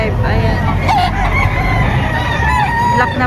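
A rooster crows loudly and close at a busy chicken market in Padre Garcia, Batangas, with clucking fowl and crowd noise filling the background.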